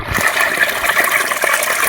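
Water gushes steadily from a newly drilled borewell into a farm field, a loud, continuous rushing splash close by with no voices.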